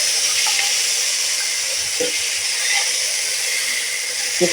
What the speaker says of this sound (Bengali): রসুন আদা পেঁয়াজ বাটা আমি লঙ্কার সাথে ভেজে নেব